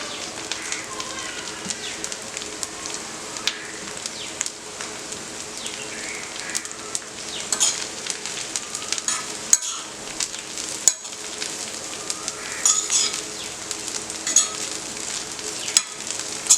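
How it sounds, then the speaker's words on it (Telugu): Amaranth leaves frying in hot sesame oil for an Andhra mango pickle, a continuous close crackling sizzle with scattered pops and stirring clatter, no voices. "నూనె వేడకగానే ఫస్ట్ మనం ఇందులో తోటకూర వేసేసి బాగా వేయించేసుకోవాలి"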